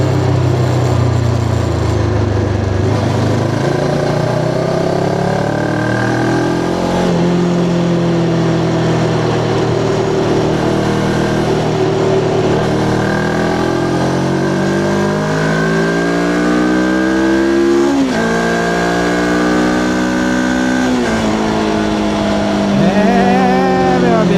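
Voge 525DSX adventure motorcycle in sport mode on an open road, its engine climbing steadily through the gears with rising revs and brief shift dips, loud and close with wind rush throughout.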